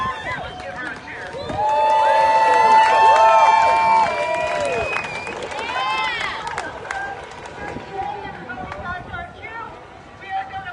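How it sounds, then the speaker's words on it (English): A rally crowd in Lansing, Michigan, in November 2020 breaks into loud cheering and shouting that swells for a few seconds, then eases into a steady babble of voices. "Let's give her a cheer."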